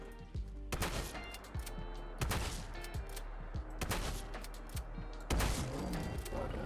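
Heavy Winchester shotgun blasts from a Fallout 4 mod, fired at a Deathclaw: several sharp booming shots at uneven intervals, with quieter mechanical clicks and thuds between them.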